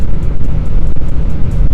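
An 87 hp Opel Corsa engine revs hard at about 4,500 RPM at 140 km/h, a loud, steady broadband drone and roar filling the cabin without a break.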